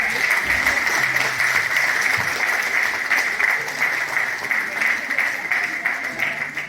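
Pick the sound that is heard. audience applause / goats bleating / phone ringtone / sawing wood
audience applause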